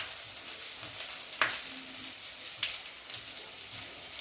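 Onion sizzles in a pan for mirchi ka salan, giving a soft continuous crackle with a couple of brief sharper spits, fairly quiet and without talk.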